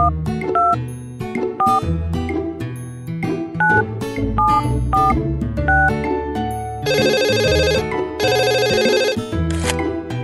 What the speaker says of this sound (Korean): 숫자를 눌러 병원에 전화를 걸어주세요.